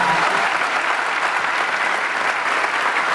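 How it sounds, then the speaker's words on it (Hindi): A studio audience at a comedy show bursts into applause, a bright, dense clatter of many hands clapping continuously at close range with no speech over it. "एक बार ताली है सर के लिए।"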